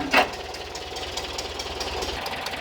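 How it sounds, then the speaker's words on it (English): A Volkswagen Bus engine idles with a fast, even hydraulic lifter ticking running through it, steady and close, with one brief sharp knock near the start. "I think it's a little lifter noise."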